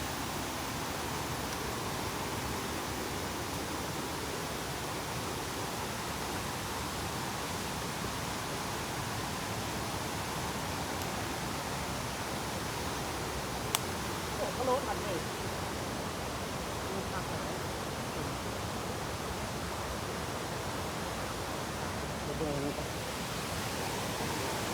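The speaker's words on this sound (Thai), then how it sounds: "จุดนี้ก็เป็นจุดที่มีน้ำตก" Steady broadband rush of flowing water at Tad Kaeng Yui waterfall near Vang Vieng, Laos, continuous and fairly loud throughout with no break, a brief faint knock near the middle.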